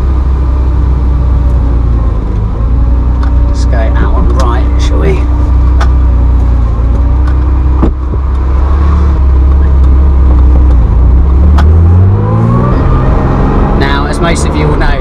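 A restored classic car is driven while its rebuilt engine is run in, giving a loud steady engine drone inside the cabin with a rising rev toward the end and occasional voices over it.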